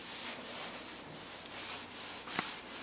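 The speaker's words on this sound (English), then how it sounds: "we're going to take a wet sponge and we're going to smooth out any knife marks and any imperfections" A wet sponge is rubbed over a drywall patch of joint compound, making soft, rhythmic swishing strokes repeated about twice per second, quiet and close.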